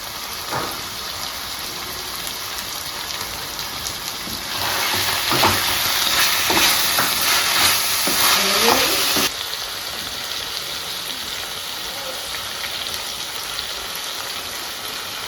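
Chilli chicken frying in a pan makes a loud, close crackling sizzle, rising to a busier bout of frying and stirring midway before easing back to a steady simmering hiss.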